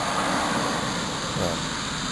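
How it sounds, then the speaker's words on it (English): Portable generator engine running outdoors in winter, a loud, steady droning hum that stays constant from start to finish without any speech. "This engine starts up readily"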